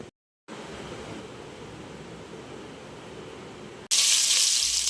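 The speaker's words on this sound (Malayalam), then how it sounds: "ഇത് നമുക്ക് ബിരിയാണിയിൽ ഇടാനുള്ള ഉള്ളി വറുത്ത് കോരാനാണേ." Onions fry in hot ghee for biryani, giving a steady, even sizzling hiss close by that ends in a sudden louder, brighter burst.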